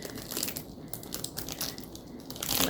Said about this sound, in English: I'm going to open up the clay.